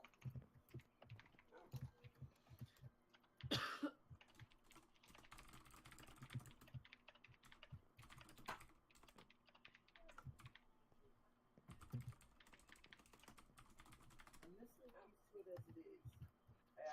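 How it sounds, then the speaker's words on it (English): Rapid, uneven clatter of fingers typing on a computer keyboard, soft and close, with a few louder bursts, while people talk quietly at intervals. "I'm typing out a lot"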